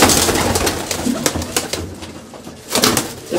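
Pigeons cooing close by among a flock kept by a Punjabi pigeon fancier, with repeated soft coos and bursts of broadband fluttering and shuffling noise over a steady background.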